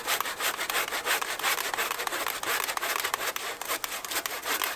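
Rhythmic hand sawing through a dead tree, rapid back-and-forth rasping strokes repeating steadily, close and alone with no voices.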